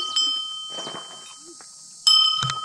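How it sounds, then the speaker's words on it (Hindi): A metal bell on the trail to Peb Fort is struck twice, bright ringing tones each leaving a lingering hum, with brief voices between the strikes. "आप देख सकते हैं यहाँ पे आपको घंटी बजानी है।"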